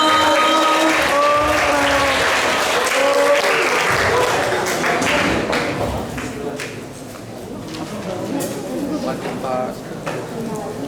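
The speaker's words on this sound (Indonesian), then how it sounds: "Jadi tepuk tangan yang beri untuk Bang Mario." A school audience at a law faculty seminar applauds a speaker, with clapping mixed into lively chatter and voices that carry on as the applause fades.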